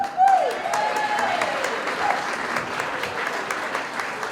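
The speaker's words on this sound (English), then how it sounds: "So ladies and gentlemen, let's have a big round of applause for Janie Smith." Audience applauding at a charity gala: a full room of steady clapping that swells quickly at the start and continues evenly, with faint voices mixed underneath.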